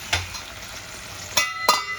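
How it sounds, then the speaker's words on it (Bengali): Spice paste fries gently in a pan while a metal lid is set on and handled, giving three short sharp clanks over a soft, steady sizzle. "একটা ঢাকনা দিয়ে আমি এখন ঢেকে দেবো"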